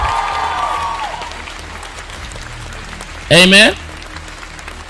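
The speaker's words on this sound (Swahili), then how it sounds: "Clap your hand for Jesus" Church congregation clapping for Jesus, continuous applause from many people under a preacher's voice, with a brief loud sung or shouted exclamation rising above the clapping late on.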